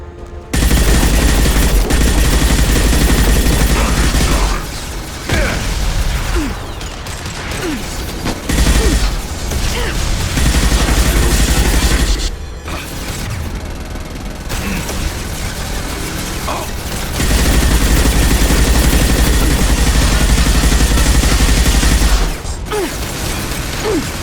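Sustained video game gunfire in Mass Effect, loud dense bursts of rapid shots and mechanical clatter that pause briefly and resume, with combat noise throughout.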